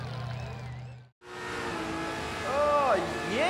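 A burnout at the Summernats 18 burnout eliminations: a revving engine roars over sustained tire squeal that rises and wavers near the end, with voices talking over it.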